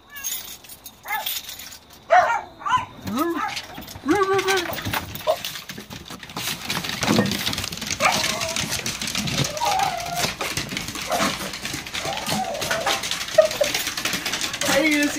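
Dogs barking and whimpering excitedly as their owner unlocks the door and comes home, with short yelps and whines over jangling keys and door noise, rising into continuous busy commotion while a person talks.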